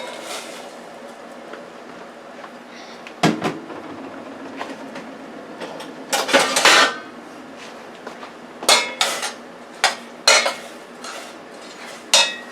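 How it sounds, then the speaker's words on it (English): Broccoli dropped into a pot of vegan cheesy broccoli soup, a few sharp clattering knocks and rustling thumps against the pot, close and irregular, over a steady low background hum. "Alright, so I'm gonna put the broccoli in."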